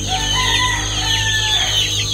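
Several chickens cluck and call at once in a dense, close flock, with a rooster among them and a constant low hum underneath, all busy and overlapping for a couple of seconds.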